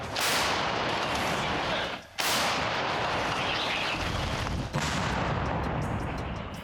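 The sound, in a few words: artillery gun firing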